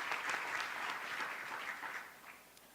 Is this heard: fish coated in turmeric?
no